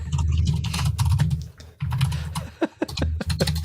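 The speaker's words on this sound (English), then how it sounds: "I know you're furiously typing." Rapid, continuous typing on a computer keyboard, with dense clicking keystrokes close to the mic over a low background hum, briefly pausing before resuming in quicker bursts.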